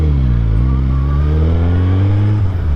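A 2023 Suzuki Hayabusa motorcycle engine roars loud and close, its pitch dipping briefly at a quick-shifter gear change without the clutch and then climbing steadily again under hard acceleration.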